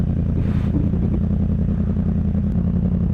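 A 2016 Yamaha R1S sport motorcycle engine drones steadily up close, a loud continuous rumble with a mechanical clatter, as the bike pulls away in first gear.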